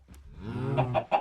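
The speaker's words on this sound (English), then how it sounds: "Now to get the chickens in there." A chicken in Minecraft Bedrock clucking up close, a drawn-out throaty call followed by three quick sharp clucks, alone and fairly loud.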